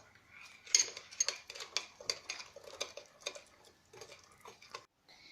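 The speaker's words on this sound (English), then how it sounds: "Mix your softened butter and sugar to cream in a bowl." Softened butter and sugar being creamed together in a bowl, with a steady run of light clinks and scrapes of the utensil against the bowl, close and fairly quiet, with no talking.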